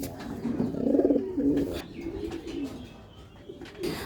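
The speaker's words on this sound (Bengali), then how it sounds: "আমার লফটে এখন 2 জোড়া কবুতরের বাচ্চা আছে" Pigeons cooing in a home loft where chicks are being raised, with low, throaty coos rolling steadily and close, alongside faint chirps and small rustles.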